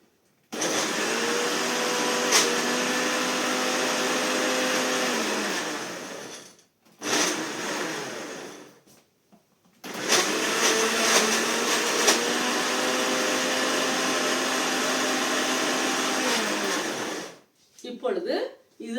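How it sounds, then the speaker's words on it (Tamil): An electric blender whirs loudly, blending avocado with sugar for a milkshake in two long continuous runs separated by brief pauses, with a short final burst. "சேர்த்ததும் இதை ஒரு தடவை அடித்து எடுத்துக்கொள்வோம்."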